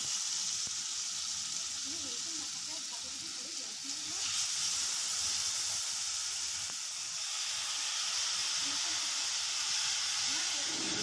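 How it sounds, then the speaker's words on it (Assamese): A steady, broad hiss of pineapple frying in hot oil runs throughout, close and continuous, with faint stirring underneath. "এতিয়া আনাৰসখিনি 2-3 মিনিটমান সময় ভাজি ল'ম।"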